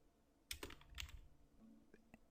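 Typing on a computer keyboard while entering HTML code, with a few close, sharp key clicks in irregular rhythm and short pauses between strokes, no voice.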